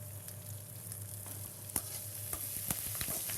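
Curry leaves and garlic frying in hot oil in a pan for a yellow pumpkin tamarind curry, a steady sizzle with a low hum beneath and occasional sharp scrapes and clicks of stirring.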